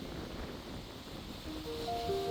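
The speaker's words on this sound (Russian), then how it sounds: "Сейчас мы видим прилив и волны." Sea waves washing ashore on a beach near Athens, a steady, soft, broadband wash with faint wind noise, no voices.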